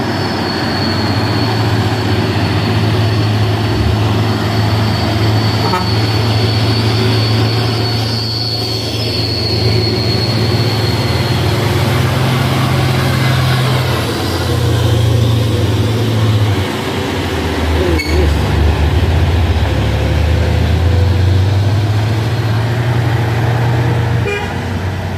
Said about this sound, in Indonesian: Isuzu lagi di belakang teman-teman.